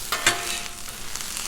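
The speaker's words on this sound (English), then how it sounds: "we're just gonna fry up these veggies real quick" Jalapeno and white onion hit a hot Blackstone griddle, a brief close sizzle with a couple of sharp scrape or clatter hits near the start, then a steady hiss with no voices.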